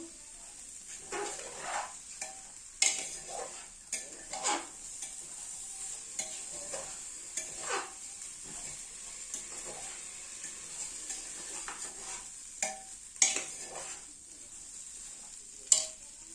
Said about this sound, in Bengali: ভেজে রাখা সবজি পাটনি জালে দিয়ে দিচ্ছি ভালো করে মিশিয়ে নেবো